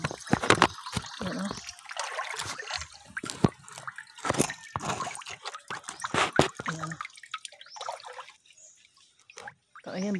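Spring water trickles and drips at a river bathing spot, a close, irregular wet patter with splashy bursts, while people talk nearby.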